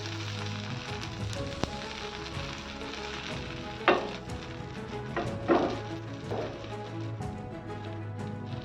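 Wheat flour pancake sizzles steadily in oil in a pan, a constant frying hiss with a few louder crackling bursts midway and no talk.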